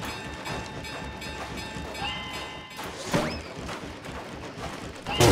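A train rumbles steadily along inside the video game Secrets of Grindea, with a constant mechanical hum and a few higher chimes and tones layered on top, and a brief louder burst near the end.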